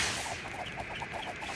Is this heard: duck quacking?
yes